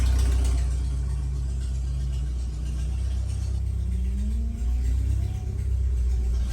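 Ford F7 truck engine idling with a newly replaced fuel pump running, a steady low mechanical drone with a faint rising whine partway through, no talking.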